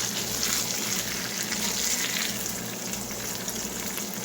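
Meatloaf topped with ketchup sizzles steadily in a pan, a constant close, even hiss of frying with no breaks.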